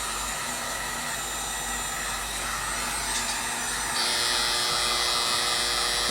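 Hair dryer blowing steadily on leather dye over a repaired rip, a loud, close, continuous whir that steps up to a stronger setting partway through, with no talking.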